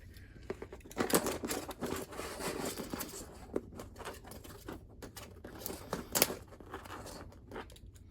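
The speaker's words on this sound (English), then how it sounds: "I'm going to again use my utility knife and cut through here, angling it towards the edge I want to keep." A utility knife slicing through the lip of a dollhouse piece, giving a run of small scratchy clicks and crackly cuts, close and fairly quiet, with no talk.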